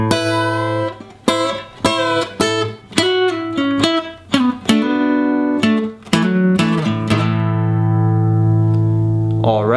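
Slow, distorted electric guitar works through the opening sections of a song, with chords and single notes plucked one after another and a final chord left ringing, close and alone.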